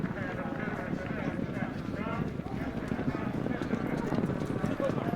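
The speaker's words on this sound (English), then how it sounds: "Libyans love horse racing" Racehorses gallop at a horse race in Libya, their hooves pounding in a fast, dense clatter that runs continuously under a voice talking.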